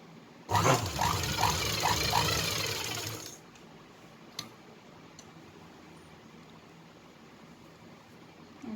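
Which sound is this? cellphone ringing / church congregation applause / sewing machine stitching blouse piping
sewing machine stitching blouse piping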